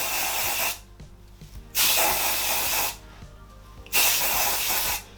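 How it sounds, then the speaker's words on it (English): Umberto Giannini Texture Boost hair spray sprayed at the hair roots in two long, close hissing bursts of about a second each, separated by quiet pauses. "This is my favourite texture spray."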